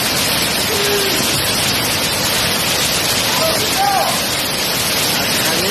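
Afarineh waterfall in Lorestan rushes in a steady, loud wash of falling water that drowns almost everything, with faint voices barely surfacing over it.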